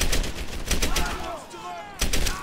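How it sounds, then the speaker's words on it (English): Video game gunfire in Medal of Honor Airborne, a rapid burst of close, loud shots, a short pause, then another burst, with a voice faintly under the shooting. "That's some efficient shooting right here."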